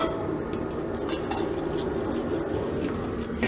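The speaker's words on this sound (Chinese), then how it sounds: "给它小火炒一下，炒香。" Sichuan peppercorns, ginger, garlic and pickled chilies stir-fry over low heat in a wok, a steady soft sizzle with occasional light scrapes and clinks of the spatula against the metal.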